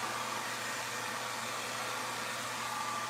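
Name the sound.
automatic hair dryer blowing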